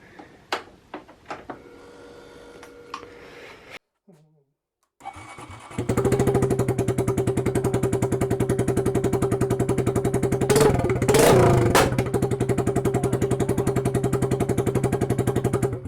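A few sharp clicks, a brief silence, then a Honda C125 Super Cub motorcycle with an unsilenced Yoshimura racing exhaust fires up and idles loudly with a raw, rattling exhaust, blipping the throttle near the end.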